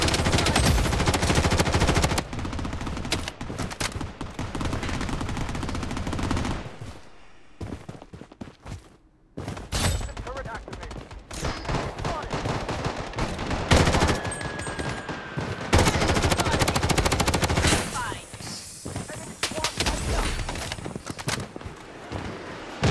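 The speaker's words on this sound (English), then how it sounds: "Grenade in play." Gunfire in the video game Blood Strike, dense bursts of automatic weapons fire and sharp shots close by, with heavy blasts of a grenade mixed in and brief lulls between volleys.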